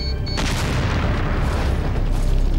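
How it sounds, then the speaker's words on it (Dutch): Explosive darts go off in Resident Evil 4, giving a loud, sustained booming blast that fills the whole moment with a deep rumbling roar. "Schiet gewoon van die dartjes, weet je wel, van die explosieve darts."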